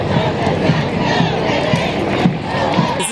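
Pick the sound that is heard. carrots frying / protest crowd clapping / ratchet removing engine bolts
protest crowd clapping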